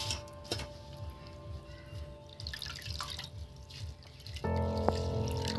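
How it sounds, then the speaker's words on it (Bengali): Water drips from boiled spinach squeezed by hand, a few soft close drips over a quiet room hum that grows louder toward the end. "চেপে চেপে বন্ধুরা জলটা বের করে দিতে হবে"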